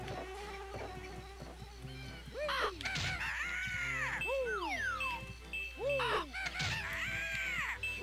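Squawking bird calls from an attacking enemy bird in the video game Banjo-Kazooie, repeated caws and swooping cries over layered game music and chiming effects, loud and continuous throughout.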